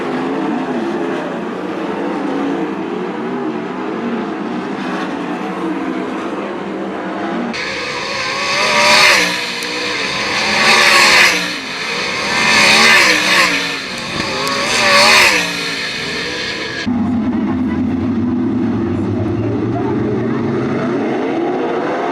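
410 sprint cars race a heat at Attica Raceway Park; loud, high-revving engine roar swells and fades in repeated waves as the pack passes close by, with quieter distant engine drone before and after.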